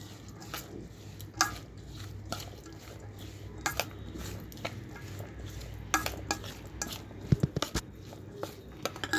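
Chopped fenugreek leaves are stirred into a bajiya batter of gram flour, producing soft wet squelches with irregular clinks and taps of a spoon against the bowl, close and continuous with no talking.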